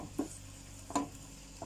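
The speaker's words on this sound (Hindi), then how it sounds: "अब मैं दही के साथ भी मसाले को भून लेती हूँ अच्छी तरीके से" Spice masala cooking with yogurt in a pan for aloo tahari, with a few faint scrape-and-stir knocks over a quiet, steady low sizzle.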